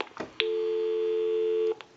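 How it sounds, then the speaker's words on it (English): A steady telephone dial tone from a Mickey Mouse telephone hums continuously for over a second, preceded by a few brief clicks and ending abruptly with another click. "Give you some dial tone."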